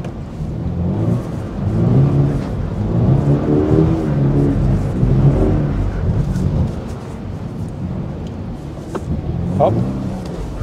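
Toyota GR86 engine revving and surging while drifting, a steady loud rumble running under continuous talking.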